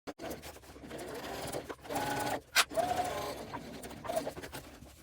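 Sewing machine running steadily along the edge of a bag lining, the motor's hum continuous with brief pauses and one sharp click, fairly close.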